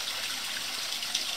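Water runs into a pike hatchery jar in a steady, close trickle and splash, continuous and hissy with no voices.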